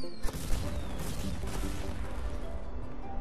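Fireworks going off in Skylanders Trap Team, heard as a dense, continuous crackle of bursts with a couple of sharper booms near the start, loud and steady throughout.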